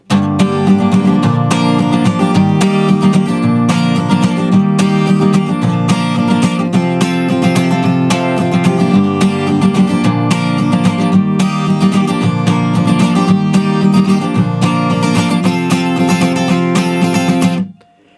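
Guitar chords played up to speed, strummed in a steady, even rhythm for several bars before stopping abruptly. No voice.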